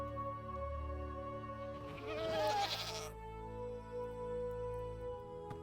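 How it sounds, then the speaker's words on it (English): A Minecraft goat gives a single wavering bleat in the middle, standing out briefly over a steady bed of game music and ambient tones. "I have no idea how this goat moves"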